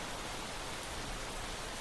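Heavy rain pours down as a dense, even hiss that stays steady and fairly faint throughout, with no distinct drops or voices standing out.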